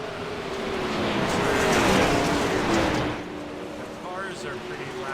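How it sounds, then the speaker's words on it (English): Sprint cars race at the Knoxville Nationals, a loud roaring engine sweep that swells to a peak and then fades as the cars pass, with a voice talking nearby. "The cars are pretty loud here"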